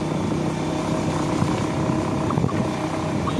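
A motorcycle rides along a rough ghat road through coffee estates near Chikmagalur, its engine droning loud and constant at close range, mixed with steady wind and road rumble and no clear gaps.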